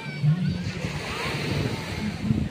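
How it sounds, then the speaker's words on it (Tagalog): Waves surge and splash against the shore in a steady low rush, with wind noise buffeting the microphone throughout. "Laki kasi ng pagsagwak ng alon eh."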